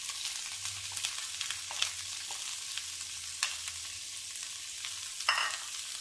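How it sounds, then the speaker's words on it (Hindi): Chopped onions frying in a pan for chicken cutlets, a continuous bright sizzle with occasional scraping stirs and a louder crackle near the end, alone without talk. "अब इसमें ऐड करेंगे प्याज."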